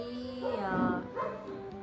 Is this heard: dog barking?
yes